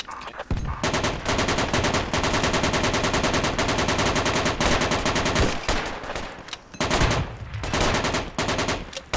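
Sustained machine gun fire in the tactical shooter Project Reality, loud and close, with rapid continuous bursts broken by a few brief pauses.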